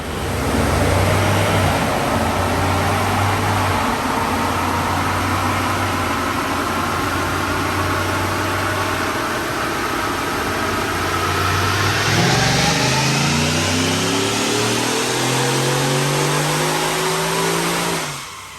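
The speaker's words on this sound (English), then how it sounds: "Check out this dyno pull." A 2019 Ford F-150 Platinum 4x4 with a 5.0 V8 and Roush supercharger makes a dyno pull, its engine droning loud and near, then climbing steadily in pitch as it revs hard toward the end, with no voices.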